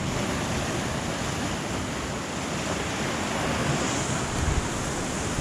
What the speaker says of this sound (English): I've got the whites of the water just lapping up at the rocks